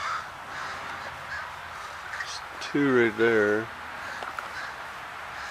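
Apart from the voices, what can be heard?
crows cawing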